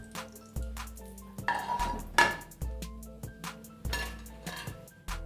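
Green pea kachori frying in hot oil, with repeated clinks and scrapes of a metal utensil against the pan over a soft sizzle, close up.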